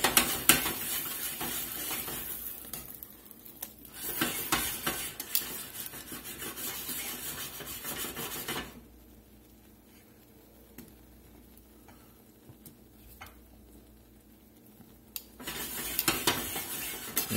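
Shrimp sizzling in butter over medium to medium-low heat, New Orleans barbecue style, with steady frying hiss, scraping stirs and pan tosses; the sizzle drops quieter midway before rising again, no talk.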